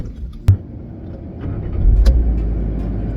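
A car cruises along an open road in Mexico, its low engine rumble and road noise steady and close, swelling slightly louder in the second half, with a sharp thump near the start.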